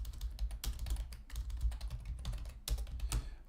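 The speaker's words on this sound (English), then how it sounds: "I'm just kind of typing as I go." Close, quick tapping on a computer keyboard, a dense run of individual key clicks with a few louder strikes, continuing steadily with no voices.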